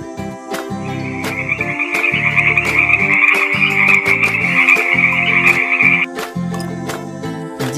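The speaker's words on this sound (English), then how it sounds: "F for frog." A frog croaks repeatedly in short rhythmic pulses, loud and close, with a sustained higher trill running through the middle.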